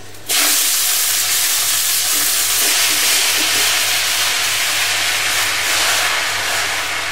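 Spinach drops into a hot pan where onions have just fried. A sudden loud, broad sizzling hiss bursts out and continues steadily for several seconds, with no voices.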